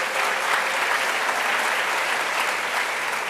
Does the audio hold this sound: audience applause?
yes